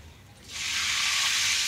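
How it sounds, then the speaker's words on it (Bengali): Biryani rice hits hot oil in a saucepan for a shrimp biryani: after a brief quiet moment, a loud, steady sizzle bursts up close and keeps hissing evenly. "আমরা বিরিয়ানির চালটা ভেজে নেব চাল ভাজবো"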